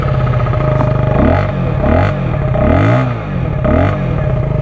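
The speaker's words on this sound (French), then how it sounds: "Je vais quand même vous faire écouter le bruit du pot." A Neco NC-N01 125cc motorcycle's exhaust revs repeatedly, each throttle blip rising and falling in a steady rhythm of close, loud engine surges with a buzzy tone and no talking.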